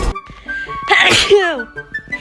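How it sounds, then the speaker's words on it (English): A single loud human sneeze bursts out about a second in, with a sharp inhale before it and quiet breathing and small noises around it. "I'm about to sneeze."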